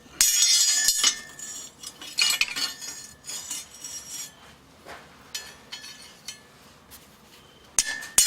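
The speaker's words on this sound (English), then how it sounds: "so I'm going to go ahead and center punch them for the" Sharp metallic strikes ring out one after another at a forge, a hammer tapping a center punch on metal to mark rivet holes, with short gaps between the clinking blows.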